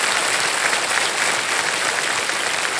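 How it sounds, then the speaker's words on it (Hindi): Studio audience on a televised quiz show applauding steadily, a dense even wash of clapping that stays loud and sustained throughout with no voices over it. "तालियां बज जाए उनके लिए।"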